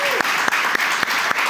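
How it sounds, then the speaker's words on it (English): Audience applause at a business talk event, a dense wash of clapping from a crowd, fairly loud and continuous with a few sharper individual claps standing out. "let's give Mike Fernandez a big round of applause"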